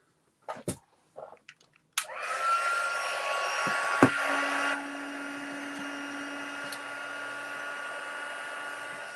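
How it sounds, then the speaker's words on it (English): A steady, loud blowing whoosh from an electric heat tool starts after a few brief knocks and runs continuously, dropping slightly in level midway. "while I set the embossing powder with the heat tool"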